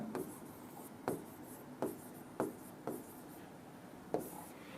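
Writing by hand in English, pen or chalk strokes scratching in short regular bursts about every half-second to second against a faint background hiss.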